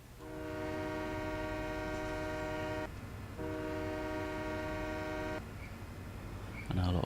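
A train horn in Farming Simulator 17 sounds in two long, steady, loud blasts separated by a brief gap, with the train's rumble continuing underneath.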